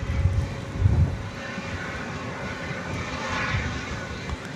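A plane at DFW Airport at night rumbles steadily, with a low engine roar that swells early and holds as a broad distant hum, with no talk.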